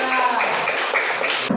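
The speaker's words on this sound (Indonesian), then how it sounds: "kita tepuk tangan dulu untuk Maura, Petra, dan Anjir." A classroom breaks into brief applause, a dense burst of many hands clapping close by that cuts off abruptly.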